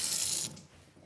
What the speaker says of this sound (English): I'm going to take a big bowl and fill it with the hottest tap water